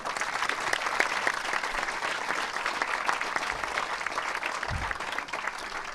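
An audience at a political conference on internationalism applauds a speaker as he is introduced: dense, steady clapping that holds evenly for the whole stretch with no voices over it.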